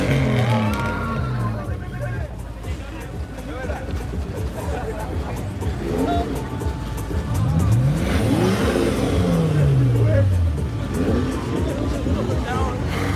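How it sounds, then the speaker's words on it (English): A blue Ferrari Italia revs its engine as it pulls away from a car meet, with loud, close rising engine sweeps over crowd chatter and voices. "Oh, the Ferrari's leaving."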